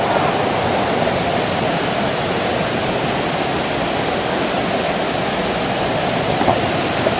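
A steady, broad rushing roar of a waterfall in Sekadau, near Pontianak, fills the whole stretch at constant loudness, close and continuous, with no voices.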